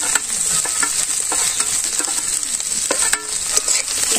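Spiced vegetables with green chillies, turmeric, chilli powder and salt fry in oil, sizzling loudly up close while a utensil stirs and scrapes the pan in irregular strokes.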